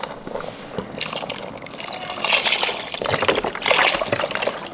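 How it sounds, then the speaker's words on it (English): Vegetable broth is poured into an Instant Pot as a continuous liquid splash and gurgle, swelling in strength toward the middle and end with no talking over it. "So I'm gonna go ahead and add some veggie broth."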